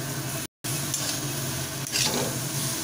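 Spices fry over a low flame in a pan with a vegetable dish of flat beans, giving a steady close sizzle with light stirring scrapes and a brief dropout.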